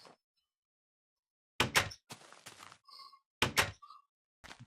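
A wooden door is placed in a Minecraft TFC Modcraft world, giving several crisp, close thunks in quick pairs separated by silence, with short tonal blips in between.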